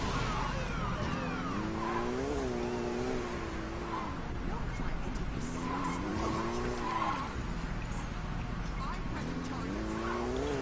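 A motorcycle in the video game Saints Row 2 is ridden with a continuous engine whine rising and falling alongside tire skids, while players chat over it throughout.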